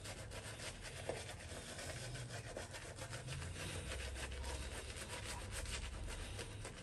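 A wet shaving brush is worked briskly into a lather, making a close, steady swishing and rubbing with a fast, even rhythm that goes on throughout.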